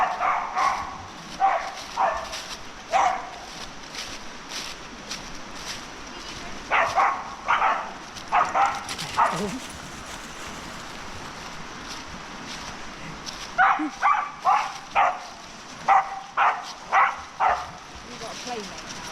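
Several dogs bark in excited bursts, some distance off by a river on the edge of Dartmoor, with quiet stretches between flurries and faint background noise.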